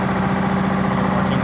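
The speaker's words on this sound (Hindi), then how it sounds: "यहाँ पे उनका कंप्रेसर चल रहा है" An air compressor runs steadily at a car service workshop, giving a continuous, even mechanical hum with a low droning tone, close by and uninterrupted, with no voices.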